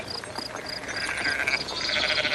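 Sheep and goats bleating in a flock: a steady, rhythmic series of high, nasal calls repeating about every quarter second, layered over a dense, continuous din of overlapping animal voices, close and fairly loud.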